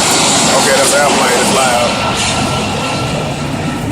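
A loud airplane roars overhead in a broad, steady rumble that slowly fades, while a person talks briefly beneath it.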